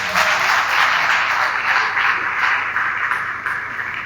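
Audience applause at a keynote speech during the NSAP 50th anniversary conference at FuLafia in 2025, a dense, steady wash of clapping that stays loud for the whole stretch with no talk over it.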